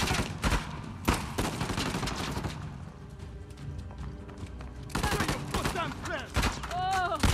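Gunfire in Uncharted The Lost Legacy, clusters of sharp rapid shots in bursts at the start and again near the end, with a quieter stretch between and faint talking.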